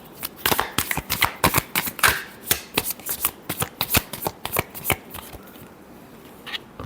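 Tarot cards being shuffled by hand in a steady run of crisp riffling slaps and flutters, close and fairly loud, ending in a short quiet stretch.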